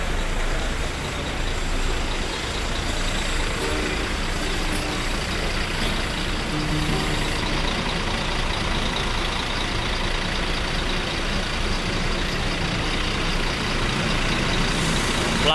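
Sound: Hino RM Tiger Bus idling at Grogol bus terminal

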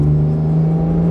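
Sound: Porsche 991.2 GT3 engine revving on a race track

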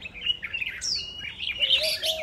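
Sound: wild bird chirping in a cage

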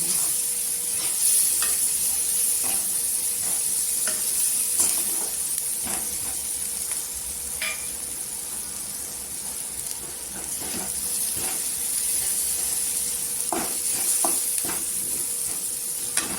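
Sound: gram flour (besan) roasting and sizzling in oil

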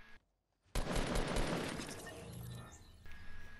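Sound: gunfire in the Fortnite video game

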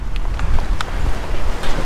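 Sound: wind blowing outdoors

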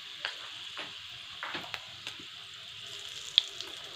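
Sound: whole cumin, fenugreek and dried red chillies crackling in hot oil

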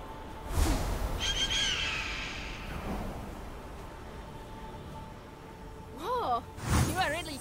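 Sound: bird call in video game Immortals Fenyx Rising

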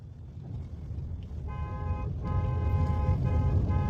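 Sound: car horn honking

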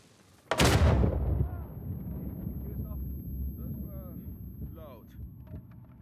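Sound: dynamite explosions in a video game

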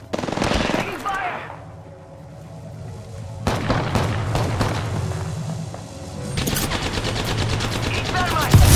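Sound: gunfire in the video game Apex Legends

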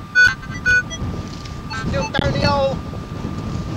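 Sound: wind blowing, wind noise on the microphone

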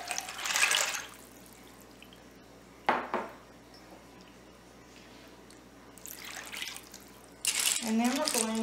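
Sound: water poured into skillet with pasta

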